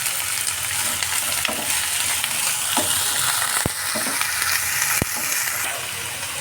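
Potatoes, onions and green chillies fry in a pan with a loud, steady sizzle that holds throughout, broken by a couple of sharp clicks like a spatula against the pan.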